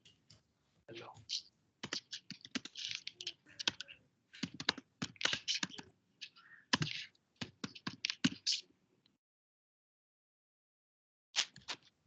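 Computer keyboard typing during an online programming class comes in irregular bursts of crisp, close clicks and key taps, pauses for a few seconds, then resumes briefly.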